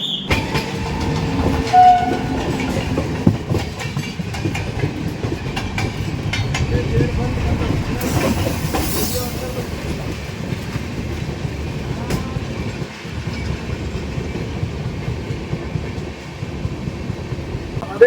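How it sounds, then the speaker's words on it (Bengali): A local train overtaking an express train, heard from aboard as a loud continuous rumble with rhythmic wheel clatter and a brief horn blast, with some talk mixed in. "পেছন থেকে আসছে লোকাল ট্রেন আর দেখবো যে লোকাল ট্রেন কি আমাদের এক্সপ্রেস ট্রেনকে অতিক্রম করতে পারে"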